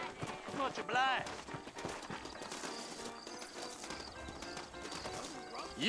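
Horse hooves clip-clop in Red Dead Redemption as saddled horses wait out front in New Austin, a steady light patter mixed with a brief whinny, sitting under game dialogue and ambient background.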